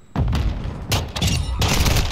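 Gunfire in Call of Duty: Modern Warfare II, three loud close bursts of shots with sharp onsets, a busy echoing battle tail in between.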